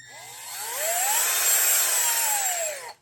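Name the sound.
power drill running, variable speed trigger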